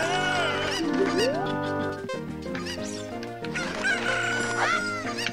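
Cuckoo chickens from The Legend of Zelda cluck and squawk in steady game audio, layered over looping background music with bright pitched calls rising and falling throughout.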